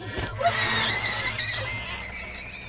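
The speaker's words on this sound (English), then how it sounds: "causing a loud, unpleasant screeching noise" A loud, sustained, harsh robotic screech with a shrill, mechanical edge, holding steady for a couple of seconds before trailing off.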